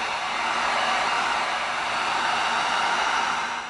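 A heat gun blows steadily while heat-sealing EVA foam, producing a constant, even airy roar that runs unbroken and close for the few seconds.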